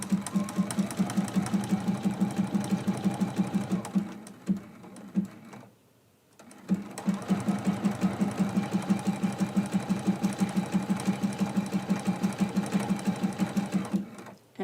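A sewing machine back stitches a quilt block with a fast, even mechanical chatter close by, pauses briefly in the middle, then resumes the same rapid steady stitching.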